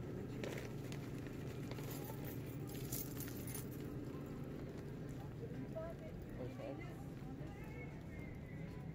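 Car keys jangle in a light, irregular metallic rattle that runs through the whole stretch, with people talking nearby over it.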